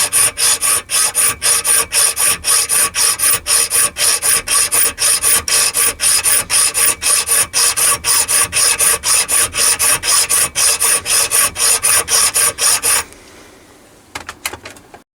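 A coarse round file works a brass drive part for a compound slide, with rapid, regular strokes repeating for about thirteen seconds, loud and close, then it stops and a few light clicks and scrapes follow.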